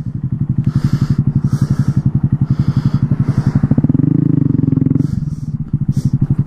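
A motorcycle rides through a residential neighborhood, its engine pulsing loud and close in a steady rapid putter, with a brief swell in revs midway before settling back into the same chugging idle.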